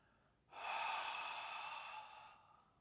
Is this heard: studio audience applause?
no